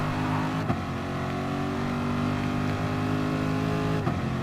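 Race car engines roar in Gran Turismo Sport during a Nations Cup exhibition race, a loud, steady droning whine with brief pitch drops near the start and end, like gear shifts, with no talking.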